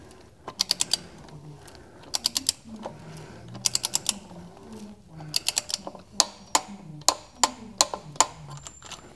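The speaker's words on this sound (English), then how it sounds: "a few clicks out of the torque wrench, and now we have that set at 25 newton meters of torque" A torque wrench set to 25 newton meters clicks repeatedly while tightening an oil drain plug on a B6 Passat R36, giving sharp, close clicks in short clusters over quiet background handling noise.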